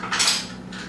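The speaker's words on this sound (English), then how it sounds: "I dropped my spoon on the floor that had the oil in it" A metal spoon dropped on a kitchen floor gives a short, bright clatter that rings briefly and fades, close and fairly loud, with no talk.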